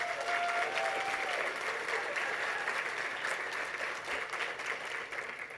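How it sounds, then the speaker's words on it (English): Audience at an awards ceremony applauding: dense, steady clapping from many hands, moderately distant and somewhat soft, fading a little toward the end, with no one talking over it. "Let's give them a round of applause."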